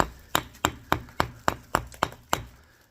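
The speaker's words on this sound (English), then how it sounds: "So with a few gentle little taps of the hammer, I should start to see the bricks falling away." A hammer gives gentle taps to bricks in a house wall being opened up for a new window and lintel: eight sharp, evenly spaced knocks at a moderate distance, each with a short ringing decay.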